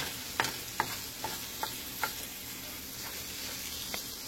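Eggs mixed with sour cream are stirred in a frying pan with a wooden or plastic utensil, giving soft steady sizzling and a string of light, regular scraping taps, close by, with no talk.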